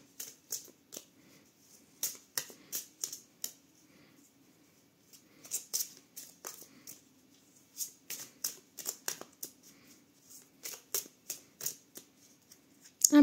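Tarot cards shuffled by hand at close range, quiet crisp riffling and flicking bursts repeating irregularly with short gaps between.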